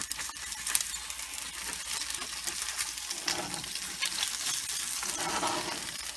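Eggs fry in a very hot cast iron skillet that is sticking a little. The sizzle is continuous and crackly, with sharp pops and small spatters throughout, close and fairly loud, and there is no talking.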